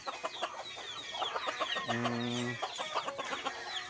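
Several chickens cluck and chatter close by, with short repeated clucks and one longer drawn-out call in the middle.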